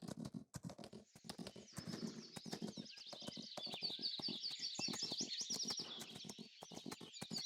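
Farming Simulator 22 horse being led to a stable box, with a rhythmic series of hoof clip-clops over a bed of chirping birdsong throughout, faint and fairly close.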